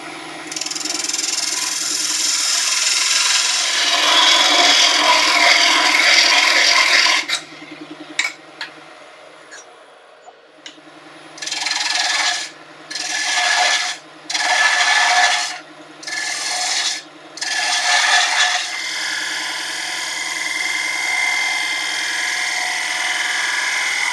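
A woodturning tool cuts a chamfer on a turning wooden sphere box on the lathe, a loud steady rasping scrape broken midway by several short, evenly spaced bursts of cutting, then a lighter continuous whir.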